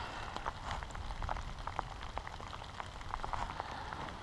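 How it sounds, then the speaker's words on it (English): Steady rain patters on surfaces during a perch fishing outing, a faint, even hiss with scattered individual drop taps throughout and no talking. "I hear the rain."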